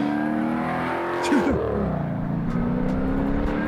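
A 900-horsepower Dodge Demon muscle car engine holds a steady, throaty drone and rises briefly in a rev, fairly close and loud, with a voice speaking over it.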